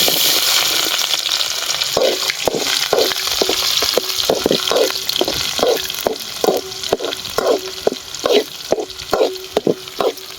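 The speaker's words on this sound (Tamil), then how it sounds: "நல்லா வதக்கலாம். நல்லா வதக்கிக்கலாம்." Onions sautéing in a hot pan with mustard seeds, a loud continuous sizzle broken by a regular series of scraping stirs against the pan, roughly two per second.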